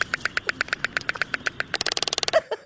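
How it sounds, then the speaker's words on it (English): Black-footed albatross calling at close range, a steady series of short harmonic honks that speeds into a rapid run of notes near the end, heard alone. "You want to hear the black-footed albatross one more time?"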